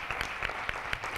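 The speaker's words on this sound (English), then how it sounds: "How about another round of applause?" Attendees at an Illinois Hispanic state employees' conference give a brief round of clapping, a soft, even patter with a few sharper individual claps standing out.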